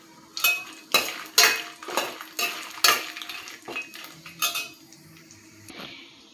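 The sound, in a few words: frying dried red chillies, coconut pieces and cumin in pan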